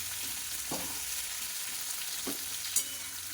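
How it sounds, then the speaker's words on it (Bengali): Pointed gourd (potol) frying in a pan, a steady close sizzle with a few soft scraping stirs, no voices. "তো চলো পটলটা একটু ভেজে নিয়ে আসছি থাক তো পটলটা ভাজা হচ্ছে"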